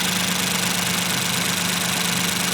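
A Honda 3.5L Earth Dream engine, suspected of high-pressure fuel pump noise, runs close to the microphone as a steady, even idle-like hum with faint knocking texture and no clear rev rise.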